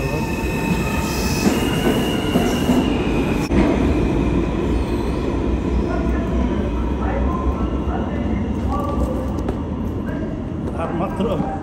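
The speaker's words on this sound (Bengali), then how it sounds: "মাঝে জ্যাকসন হাইটে আমরা আমাদের ই ট্রেন বদল করে এফ ট্রেনে উঠেছি" A New York City subway F train running, with loud continuous rumble and squealing wheels throughout, and talk heard over the noise.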